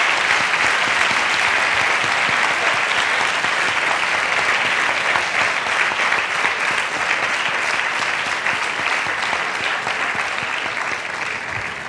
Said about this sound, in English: we should give a big round of applause to the guests speakers now